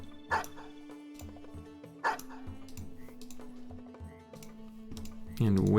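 Dogs barking in a video game: two sharp barks near the start and around two seconds in, over a steady game drone with keyboard typing and a louder burst at the end.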